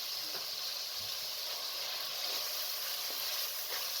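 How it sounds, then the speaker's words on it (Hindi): Minced meat frying with spices on medium heat for aloo keema, a steady bright sizzle with a few small pops and crackles, close and constant with no talk. "और मीडियम आंच पर ज़रा भूनें।"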